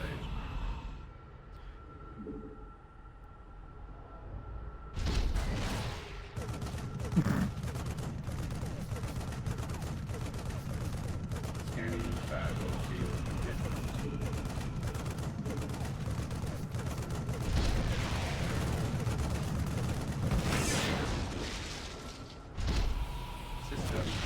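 StarCraft II Wings of Liberty siege tanks firing, a steady stream of thumping cannon shots and explosions mixed with other battle noise, moderately loud, with a voice talking over it.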